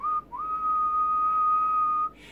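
A person whistles a single steady, sustained tone at about 1 kHz for about two seconds after a brief initial note, clear and close with no talking.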